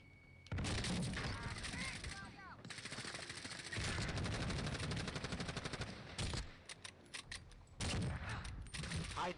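Gunfire rattles through a video game battle, with long dense bursts of automatic fire, sharp single shots including a sniper shot, and brief gaps, while players talk over it.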